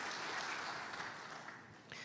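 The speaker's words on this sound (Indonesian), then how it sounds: "Kasih tepuk tangan yang meriah buat Tuhan." A church congregation applauds, a soft, even wash of many hands clapping heard faintly from a distance for a couple of seconds.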